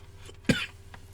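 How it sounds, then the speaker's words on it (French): A single sharp cough, close and fairly loud, bursting out briefly against a quiet low background hum with no talking. "oui, je tousse."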